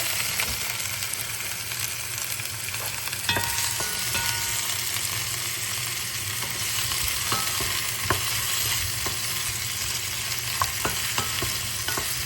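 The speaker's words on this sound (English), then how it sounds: "add the pineapple and the wedged tomatoes in. Just gonna give this a quick stir" Pineapple and wedged tomatoes being stirred into onion and shallots frying in a pan for fish tom yum soup, a constant close sizzle broken by scattered scrapes and clicks of the utensil.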